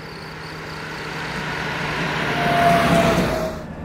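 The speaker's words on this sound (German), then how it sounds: "Schlüssel rumdrehen, Anlasser ist unten drunter. Und er springt an, wunderbar." The engine of a 1953 Mercedes 220 Cabriolet B turns over and settles into a steady, fairly quiet idle, swelling slightly partway through before easing back.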